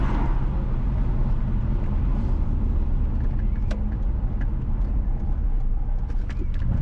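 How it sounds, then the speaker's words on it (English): A car drives northwest along the A3 Temple Hall main road from Golden Spring toward Temple Hall in St Andrew, Jamaica. A loud, steady engine and road rumble comes from inside the car, with faint clicks and no talk. "Currently, we are driving northwest from Golden Spring towards Temple"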